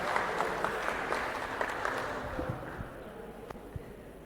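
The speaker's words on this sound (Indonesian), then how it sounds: "Kita berikan aplaus buat nomor 5." An audience claps for contestant number 5 at a fishbowl quiz event, steady moderate applause that thins out toward the end, with scattered individual claps standing out.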